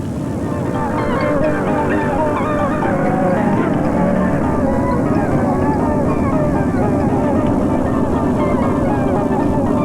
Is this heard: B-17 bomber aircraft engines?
yes